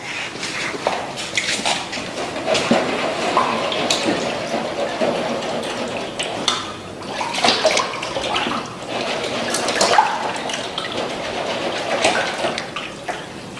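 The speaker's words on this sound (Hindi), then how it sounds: "अब इसे हम ठंडे पानी में धो लेंगे जैसे मटर को धोया था।" Boiled vegetables rinsed in cold water in a food-processing setting, a steady splashing and running-water wash that continues throughout with no voices.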